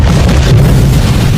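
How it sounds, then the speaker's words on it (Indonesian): A bomb goes off in a river in The Incredibles, a dense, sustained low rumbling boom that fills the whole moment with heavy bass, loud and close. "Syndrome yang menjatuhkan sebuah bom ke dalam sungai itu agar dipastikan Tuan Incredible tewas terkena ledakan bom tersebut"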